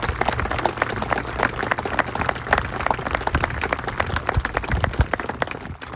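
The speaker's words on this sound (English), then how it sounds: "I ask that you join me in a round of applause" Crowd at a New Jersey National Guard governor's military review gives a round of applause, clear individual claps bunched into a lively, uneven patter that swells and eases over several seconds.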